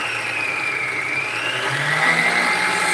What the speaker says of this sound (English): I didn't think it through when I put you this close to the mixer.